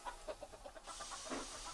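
Chickens cluck at a farm in a Trainz railway game remake, a series of short pulsing clucks over a faint hiss of steam.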